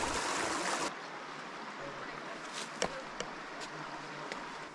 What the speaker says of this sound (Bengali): ঝিরি পথে কিছু দূর পর পর পানির আওয়াজ পেলে শরীরের সকল ক্লান্তি দূর হয়ে যায়